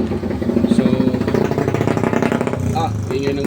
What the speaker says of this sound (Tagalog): ingay ng motor ah. Terrible.